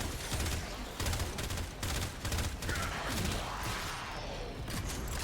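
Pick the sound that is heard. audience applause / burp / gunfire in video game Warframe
gunfire in video game Warframe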